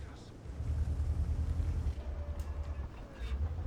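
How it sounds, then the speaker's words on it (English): Strong wind gusting outside a house, a deep rumbling roar that swells and surges in waves, heard muffled from indoors with no voices. "Holy crap, is it windy outside."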